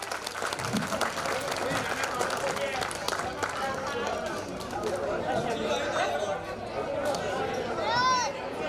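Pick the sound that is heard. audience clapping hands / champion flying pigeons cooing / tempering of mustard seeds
audience clapping hands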